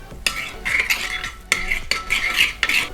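A marinade of oil, soy sauce, garlic and ginger being mixed in a bowl, close and fairly loud, with repeated scraping and clinking strokes of a utensil against the bowl in an uneven rhythm.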